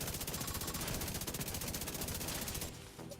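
Rapid automatic gunfire in The Division 2 shooter game: a dense, loud, unbroken burst of evenly spaced shots that stops abruptly near the end, leaving faint ambient noise.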